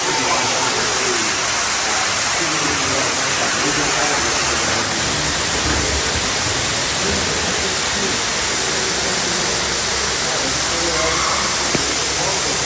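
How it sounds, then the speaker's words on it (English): Water rushing steadily down a waterfall near Chichen Itza, a dense, loud, hissing roar that runs throughout at close range with no voices over it. "We're walking down a waterfall."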